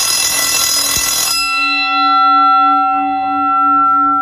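A timer bell rings loudly with a harsh metallic clatter for over a second, then cuts off abruptly, leaving a sustained ringing hum that slowly fades.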